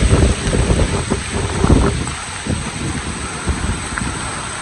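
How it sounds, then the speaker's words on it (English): Hurricane wind gusts across a rural property in northeast Tennessee, buffeting the microphone with loud low rumbling that swells and fades, strongest at the start and settling into a steadier rush. "A little gust of wind here."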